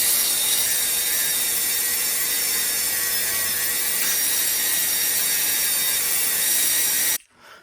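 A wire brush scrubs rust from the blade of a 1958 Camillus knife, a bright, harsh continuous scratching close up that runs steadily for about seven seconds before stopping abruptly.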